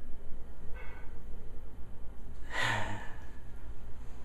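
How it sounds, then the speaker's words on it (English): A person takes one quick, close nasal sniff of red wine in a glass, a short breathy rush standing out briefly above a steady background hiss. "Let's give it a sniff."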